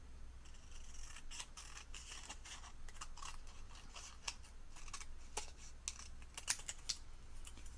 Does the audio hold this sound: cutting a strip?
yes